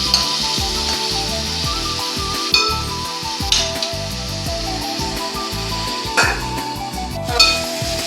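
Tomato, onion, green chili and ginger-garlic paste frying in a pan, a close, busy sizzle broken by repeated scraping and stirring knocks with an uneven rhythm, with no voices.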